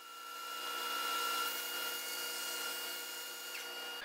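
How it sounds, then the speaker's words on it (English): A bandsaw cutting the feet of a wooden sawhorse: a steady whirring blade hum with a thin high whine, rising slightly as the cut goes through the wood and holding even for a few seconds, without voices. "back to the bandsaw to establish the feet"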